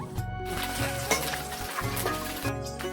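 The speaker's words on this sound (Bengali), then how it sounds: "এখন মাছটা ভেজে নিব" Cold-water river fish from the Teesta frying in a pan before being cooked into a chorchori, a steady sizzle running throughout with a near, fairly loud, continuous texture.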